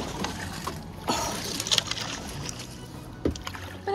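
A kayak paddles across a lake, with close, irregular splashes and water swishes as the paddle strokes, over a steady wash of water and outdoor noise.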